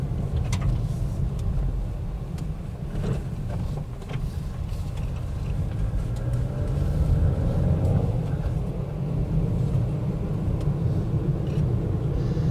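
A Toyota Etios car drives along a straight road with a steady low engine rumble and road noise that swells slightly as it accelerates, heard from inside the cabin.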